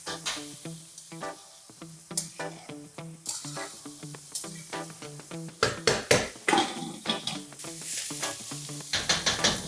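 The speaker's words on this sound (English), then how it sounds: "Now you need to saute the onions till they are golden brown in color." Onions sautéing in a pot until golden brown for dal gosht, with crackling sizzle and frequent clanking, scraping spoon strokes against the metal, growing busier and louder toward the end.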